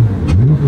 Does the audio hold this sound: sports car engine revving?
yes